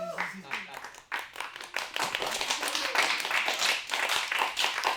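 A comedy club audience breaks into scattered clapping that builds into a fuller round of applause, starting after a brief bit of talk and carrying on to the end.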